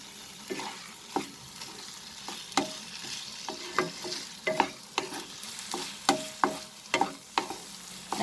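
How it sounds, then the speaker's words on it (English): Paneer bhurji frying in a pan over medium flame, with repeated sharp scraping and clacking strokes of a spatula as it is stirred over a steady close sizzle. "I'll cook this for near about 3 minutes over medium flame"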